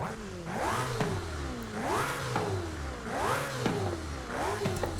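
Ferrari J50 with a 6.5-liter engine revving in Forza Horizon 5: a loud, close engine climbing in pitch again and again in quick repeated pulls, each rising sweep dropping back before the next, with no talking.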